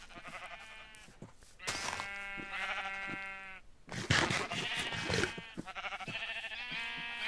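Sheep in Minecraft bleat repeatedly, a series of wavering, nasal calls that come loud and close, sometimes overlapping, with brief pauses between them and no talk.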